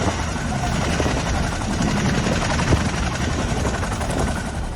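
Army rescue helicopter at a cloudburst disaster site in Dharali, Uttarkashi, giving a steady, loud rotor and engine drone that holds unbroken throughout, with faint voices in the background.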